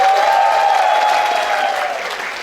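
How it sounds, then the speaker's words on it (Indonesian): Steady audience clapping for a choir at the opening ceremony of the SSCCF 2023 choir festival, a full, close burst of applause that tapers slightly toward the end, with a faint sustained tone underneath. "tepuk tangan untuk Omnitago"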